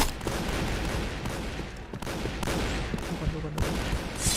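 Dense, loud gunfire in the shooter game Point Blank, rapid overlapping bursts forming a nearly continuous fusillade with brief dips between volleys.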